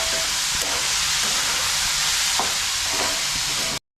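Onion sautéing in a pan for a roasted eggplant bharta, giving a steady, loud sizzle throughout with a few soft scraping stirs and no talking.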